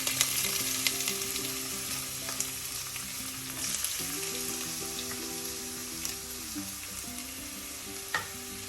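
Crushed ginger and garlic fry in hot oil with fenugreek seeds for a tuna curry, giving a continuous close sizzle with occasional light crackles and faint stirring.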